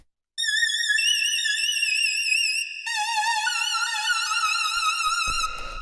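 Bright synth lead melody from a ghetto electro track, played alone with wobbling vibrato on its tones, a clean pattern that repeats a second time an octave lower, ending in a short noisy hit.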